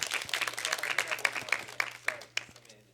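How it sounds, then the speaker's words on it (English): Audience applause after a lecture at a seminar, moderate and fairly distant, with scattered individual claps that thin out toward the end. "should we give him another round of applause?"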